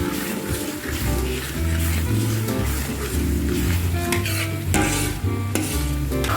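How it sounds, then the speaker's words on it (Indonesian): Blended spice paste sautés in a pan, giving a steady loud sizzle and frying hiss while a utensil stirs and scrapes against the metal in repeated strokes throughout. "Semua bumbu selain cabai kita blender. Setelah itu lalu kita tumis."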